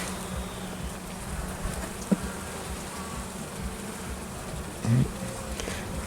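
Honey bees buzz as a dense, steady hum around hive colonies that had suffered Asian hornet attacks, with a couple of brief knocks and light handling sounds.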